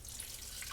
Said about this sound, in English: And then I'm just going to fill that with water